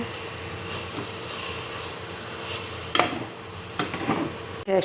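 Biryani ingredients are stirred and mixed in a pan, a steady scraping and soft sizzling that runs throughout, with a few louder clanks of the spoon against the pan near the end.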